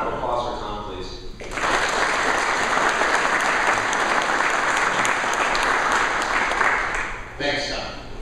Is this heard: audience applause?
yes